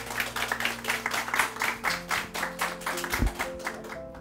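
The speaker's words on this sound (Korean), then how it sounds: "큰 박수로 첫 번째 참가자를 응원해 주시길 바랍니다." A school audience at a book festival poetry recital claps for a contestant, a brisk patter of many hands fading out after a few seconds.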